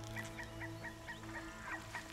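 A goose in Horizon Zero Dawn gives a string of short honking calls, about eight evenly spaced squawks, faint and quiet against a soft ambient game background.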